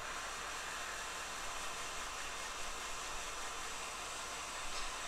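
A hot air rework station blows steadily over a PS4 circuit board, giving a constant, even hiss of rushing air with no breaks.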